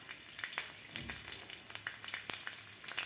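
Garlic and hot green chillies roast in a pan for a rustic Maharashtrian thecha, giving a soft, steady frying sizzle with light crackles and faint clinks, heard alone.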